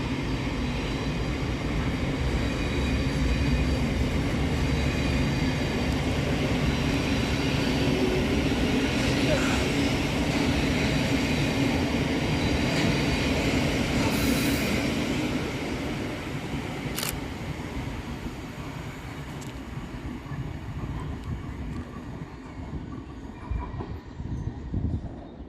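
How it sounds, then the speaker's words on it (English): A Class 700 Govia Thameslink train departs Preston Park station, a loud broad rumble of wheels and motors that rolls on steadily and then fades as it pulls away, with a brief high squeal near the end. "Next train out of the station is 700 120, working the 1708 Govia Thameslink service from Bedford to Brighton."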